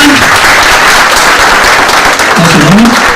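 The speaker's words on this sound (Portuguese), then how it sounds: "Salve de palmas para a nossa voluntária" A lecture audience applauds a volunteer who has come to the front: loud, dense, steady clapping from many hands fills the whole stretch, with a faint voice briefly underneath.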